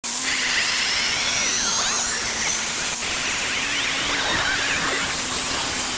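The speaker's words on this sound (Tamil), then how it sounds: "அந்த தேவையில்லாத பாட்டை மட்டும் நம்ம கட் பண்ணி எடுத்துடலாம்" A homemade cut-off machine slices through a steel plate, giving a loud, continuous high-pitched grinding hiss with a steady motor hum underneath, close and uninterrupted for the whole stretch.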